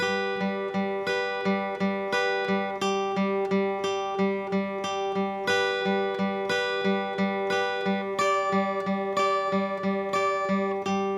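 Acoustic guitar strummed and picked in an even, repeating rhythm through the verse of a song, close and clear, with no talking.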